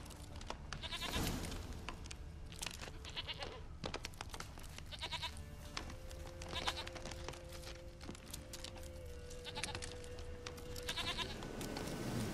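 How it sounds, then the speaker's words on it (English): Repeated goat bleats in the game The Witcher 3: Wild Hunt, half a dozen nasal calls spaced a couple of seconds apart over a busy background with a steady tone drifting through. "Está aquí la cabra. Here, goat."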